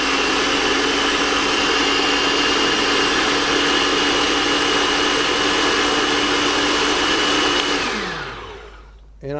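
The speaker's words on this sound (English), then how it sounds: "Let's start with a pulse. Just kind of break it down a little bit." A blender purees chili ingredients with a loud, steady motor whine close up, running continuously before the motor spins down and fades out near the end, no talking.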